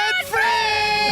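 A couple of veterinarians let out a loud, close debt-free scream together, a brief dip then a sustained shrill yell lasting about a second.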